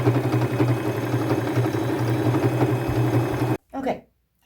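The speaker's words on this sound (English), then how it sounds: "I will go to the top and sew that on with a straight stitch as well." A sewing machine runs a steady straight stitch along fringe on an old dress being remade into a patchwork coat, a close continuous mechanical hum that stops abruptly near the end before a brief rustle.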